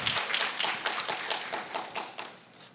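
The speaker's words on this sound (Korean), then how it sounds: "우리 하나님께 한번 감사 영광의 박수 드리겠습니다" A church congregation claps together during a Wednesday worship service, a run of crisp hand claps that starts strong and gradually thins and fades out.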